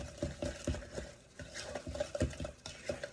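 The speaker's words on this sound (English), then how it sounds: "we will cream this until it's light and fluffy, which is just really mixing it well" A cake mixture is creamed by hand in a bowl, heard as a series of soft rhythmic scraping and stirring strokes close up, with no one talking.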